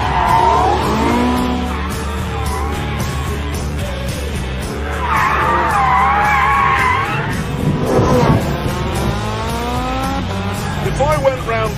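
A four-wheel-drive car with rear-wheel steering slides fast around a desert corner, its tires skidding and squealing over a loud, revving engine, with a voice talking over it.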